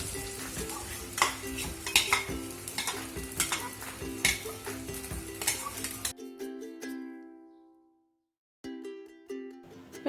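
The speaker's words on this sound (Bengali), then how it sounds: "তেল গরম হয়ে গেছে এবং আমি ডালের মিশ্রণটা তেলের মধ্যে ছেড়ে দিলাম" A lentil mixture for dhokar dalna sizzles in hot oil in a pan, with close stirring clinks and scrapes over the frying hiss for several seconds. Then a single metallic ring fades out, followed by a brief silence and a short return of sizzling.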